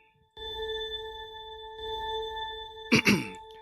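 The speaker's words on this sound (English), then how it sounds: "I want to hear less of a ding, which means I went the wrong way." A synthesized ding made in LMMS and passed through a plate reverb sustains as a steady bright tone with a lingering tail for about three seconds, followed by a short burst of noise near the end.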